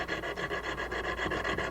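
A chisel edge is worked back and forth on a coarse diamond hone, giving a steady, quick rasping rhythm of short strokes, close and fairly quiet, with no talk.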